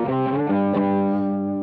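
An electric guitar runs through the overtone modulation effect of a Boss ME-80 multi-effects pedal, giving a 12-string sound: one sustained, buzzy, harmonically rich chord rings out loud and close, with a slight shift partway through and no voices.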